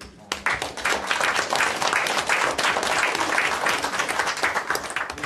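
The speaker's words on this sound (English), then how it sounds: "Let's give him a round of applause." Loud, dense applause breaks out in a council chamber during a meeting, with many people clapping close by, sustained and full from start to finish.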